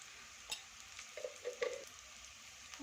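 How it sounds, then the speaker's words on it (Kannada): A tomato fries in a pan with turmeric for a green gram gravy, giving a soft, low sizzle broken by a few quiet stirring clicks. "ಒಂದು ಟೊಮೊಟೊ ತೆಗೆಸ್ಕೊತ ನಾನು ಚೆನ್ನಾಗಿ ಫ್ರೈ ಮಾಡ್ಕೊಳ್ಳಿ"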